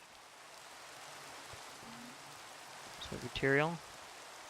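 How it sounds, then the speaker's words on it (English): Rain falling in the Minecraft video game, a steady soft hiss of rainfall that runs through the whole stretch, with a voice speaking briefly over it near the end. "And why is it raining in this dimension now?"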